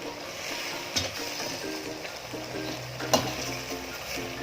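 Mushrooms cooking in a pan for beef in mushroom sauce, a steady close sizzle with soft stirring scrapes and two sharper utensil knocks, with no talking.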